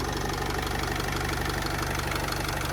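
The 2.0-litre, 115 hp engine of a 2013 Opel Vivaro Passenger Long van idles quietly with an even, rapid low-pitched thrum and a faint steady rattle, close up with no voices.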